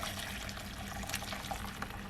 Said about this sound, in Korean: 끓인 육수를 체에 거르고 식혀줍니다.